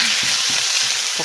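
Squid stir-frying in olive oil with minced garlic sizzles loudly and close, with quick rhythmic stirring scrapes breaking through the constant frying hiss.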